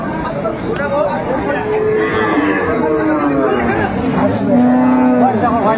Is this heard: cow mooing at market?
yes